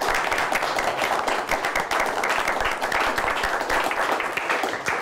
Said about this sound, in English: Let's give both of our teams a nice round of applause.